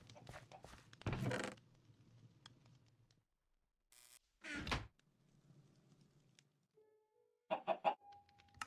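Chickens cluck in short bursts in the Minecraft game, with a door-like thunk and a few brief tones between them, and faint talk in places.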